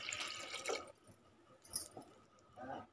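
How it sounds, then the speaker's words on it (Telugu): Water poured into a pressure cooker holding washed lentils with onion, three green chillies and a large tomato; a few splashing, sloshing bursts with brief pauses, close and moderately loud, no talk. "ఒక 1/2 లీటర్ వరకు వాటర్ పోసుకోవాలి"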